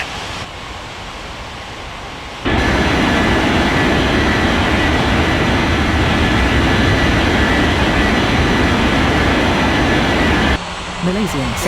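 Emirates jet airliner roaring down the runway on its takeoff roll, a loud, steady broadband engine rumble that swells in abruptly and holds for about eight seconds before cutting off, close to the listener.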